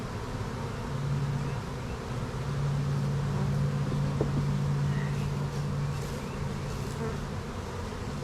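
Dense, steady hum of honey bees buzzing around an open hive, close and continuous, with individual bees droning past the microphone.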